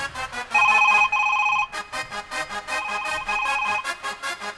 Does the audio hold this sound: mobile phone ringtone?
yes